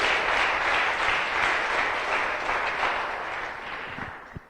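A church congregation applauding during a sermon, a full, sustained burst of clapping from many people that gradually tapers, with a few isolated claps and thumps near the end.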